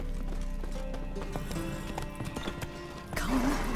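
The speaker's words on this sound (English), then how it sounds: "Gotta calm down the horses before they wake the guards." Horses in The Witcher 3 whinny and stamp their hooves, a steady clip-clop of shifting feet with a rising neigh near the end, set against low ambient game music.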